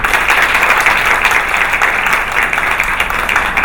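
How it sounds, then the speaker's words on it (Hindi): Loud, dense applause from an audience at the opening of a beautician event, honoring guests. The clapping stays steady and continuous throughout, with no talk over it. "एक दफा मैं चाहूंगा आप उनके लिए ताली जरूर बजाएं।"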